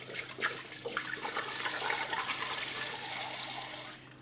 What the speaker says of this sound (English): We're going to pour the whole bottle in.